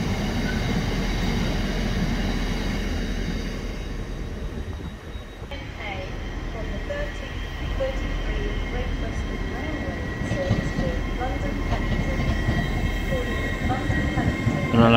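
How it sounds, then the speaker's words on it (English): A train rumbles past steadily with a low continuous roar and faint wheel squeals, loud and sustained throughout. "We love seeing freight trains, no matter where they are."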